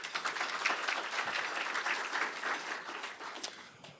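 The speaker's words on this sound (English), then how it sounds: "Let's give them a round of applause." Attendees at a chamber of commerce luncheon give a round of applause, a continuous patter of many hands clapping at moderate distance that tapers off toward the end.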